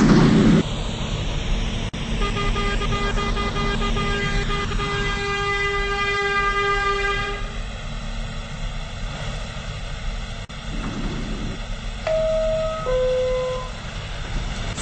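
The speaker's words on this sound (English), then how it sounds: "There is a local train approaching the station." A local subway train in a Roblox video game pulls into a station, with a steady rumble, a long horn toot that slides and holds, and a short two-tone chime near the end.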